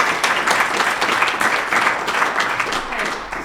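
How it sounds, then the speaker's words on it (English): Sustained applause from a symposium audience at the Cornish National Music Archive, steady dense clapping filling the room for a few seconds without a break. "All right, another round of applause for Richard,"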